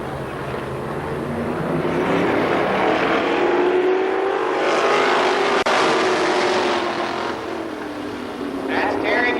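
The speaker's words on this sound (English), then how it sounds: "6 cars, 8 laps for the wing sprint cars here this evening." Winged sprint cars race around Columbus Motor Speedway in 1994, engines droning and rising in pitch as the pack sweeps past, loud and continuous beneath a public-address announcer calling the field.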